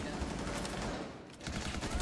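Rapid automatic gunfire in Rainbow Six Siege, a fairly quiet continuous stream of shots with a brief dip midway, plus a faint voice underneath.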